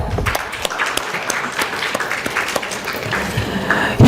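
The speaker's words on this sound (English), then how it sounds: "Please give a clap." An audience claps in steady applause for a session moderator at a startup talk event, a dense wash of many hands filling the room, fairly loud and continuous throughout, with no talk over it.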